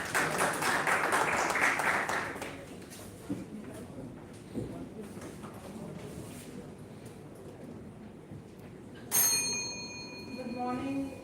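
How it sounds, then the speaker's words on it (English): At a national oratory contest the audience gives a contestant a short round of applause that dies after about two seconds, followed by quiet room noise and a sudden bell-like chime near the end. "Big round of applause for"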